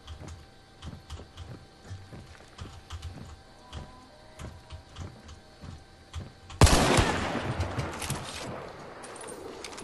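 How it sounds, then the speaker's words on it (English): Hunt: Showdown gunfire starts as a run of quiet rhythmic clicks and ticks, then a loud nearby shot bursts out and trails into a rumbling, crackling echo that fades slowly. "I keep getting shot at."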